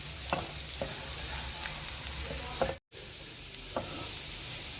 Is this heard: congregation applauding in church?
no